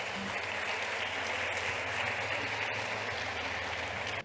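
Sustained, even applause from a conference audience at an opening session, a dense, constant wash of clapping with a low hum underneath that cuts off abruptly at the end.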